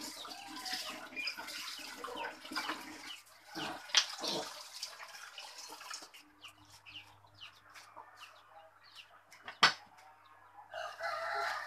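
Fighting rooster crowing and clucking nearby, with several loud crows and scattered clucks over a low steady hum and occasional sharp knocks, no speech.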